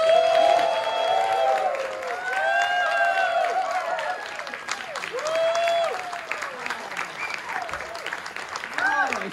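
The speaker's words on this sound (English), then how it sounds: "you keep clapping, you're still clapping as always" A talk show studio audience gives a standing ovation, sustained loud clapping and cheers lasting several seconds, with voices mixed into the applause.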